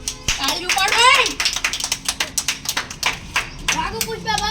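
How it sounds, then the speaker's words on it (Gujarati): A group claps in a quick, rhythmic beat during a comedy skit. The claps sound close and crisp, with children's voices chattering over them. "તાળીઓ પાડો"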